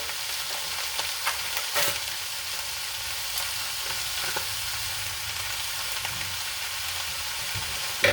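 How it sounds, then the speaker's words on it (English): Ground meat with taco seasoning sizzles steadily in a pan on lowered heat, a constant close frying hiss with occasional scrapes and stirring clicks, no talk. "I'm going to turn the heat down to like 5 so that the seasoning packets can cook in there."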